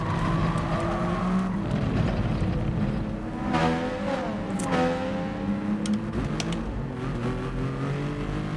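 Race car engine in Gran Turismo Sport during an FIA Nations Cup online race, a loud steady drone with rising and falling revs and tire squeal, continuous with no talk.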